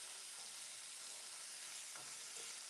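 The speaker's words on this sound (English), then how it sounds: "Let your bacon get all nice and sizzly. Enjoy the bacon sounds and smells." Bacon frying in a pan during a cooking class, giving a steady, soft, broadband sizzle with faint crackles throughout, alone and at low level.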